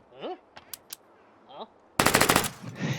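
Rapid automatic bursts from a PDW fired in the VR game H3VR, a loud dense volley of sharp gunshots breaking out after a quiet stretch with a few faint clicks and brief voice sounds.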